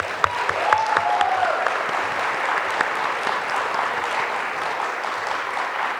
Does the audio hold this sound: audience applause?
yes